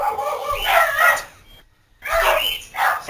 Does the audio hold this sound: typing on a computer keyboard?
no